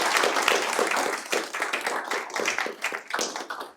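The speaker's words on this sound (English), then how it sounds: "Please join me in a big round of applause for this amazing panel." Audience clapping for a health law and biotechnology panel at an open house, a dense patter of hands that starts strong and gradually thins and softens over a few seconds.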